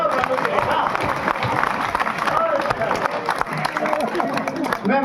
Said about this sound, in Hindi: एक बार मिलके ताली बजाओ कानू के ना।